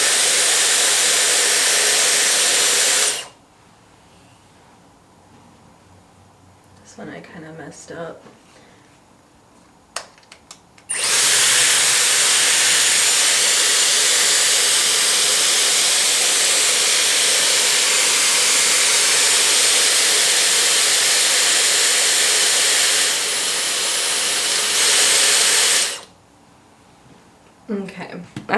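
A Dyson hair styling tool blows a loud, steady rush of air for long stretches, cutting off briefly while someone speaks, then roaring again before stopping.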